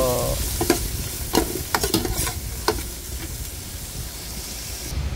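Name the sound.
garlic, ginger and tomato sautéing in a pan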